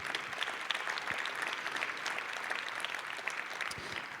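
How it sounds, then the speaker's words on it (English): A March for Life rally crowd in Des Moines, Iowa applauds in a continuous, even wash of clapping from many hands, fairly distant and steady for several seconds. "please give yourselves a round of applause"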